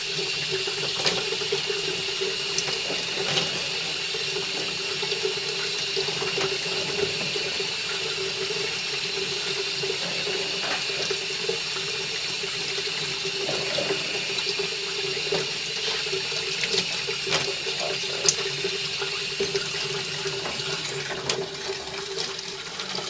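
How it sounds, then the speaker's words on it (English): Steady running water flows down a drain line continuously with a faint hiss and occasional soft clicks and gurgles, no voices present. "Should start seeing water make its way down the line."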